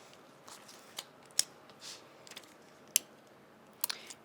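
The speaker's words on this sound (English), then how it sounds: "I usually use the tips of my scissors just to kind of move them around." Metal scissor tips nudge small paper die-cut pieces across a crafting surface, making faint scattered clicks and light scrapes with quiet pauses in between.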